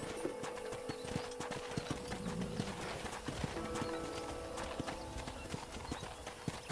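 Rapid rhythmic hoofbeats clatter steadily at a gallop in Red Dead Redemption, close and fairly clear, with a faint whinny in the mix.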